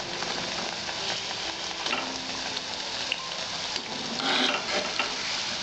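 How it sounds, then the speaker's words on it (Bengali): Flour khaja dough fries in oil over low heat, giving a steady, close sizzle and bubbling with faint stirring clinks. "একটু টাইম নিয়ে ভাজতে হবে।"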